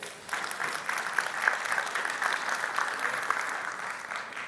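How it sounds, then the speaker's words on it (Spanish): A church congregation breaks into sustained applause, a broad even wash of many hands clapping at moderate distance, holding steady after a quick swell. "¿Por qué damos un aplauso a Dios por eso?"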